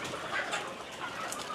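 Young chickens clucking on a poultry farm, a dense, moderately loud chorus of overlapping calls and chirps with a steady murmur of birds throughout.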